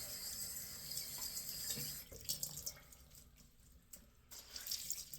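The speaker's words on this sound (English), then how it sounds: "time to get the soap off my face" Water runs steadily from a tap into a sink while shaving soap is rinsed off a face, a close, continuous rush with splashes and shifts as hands move through the stream.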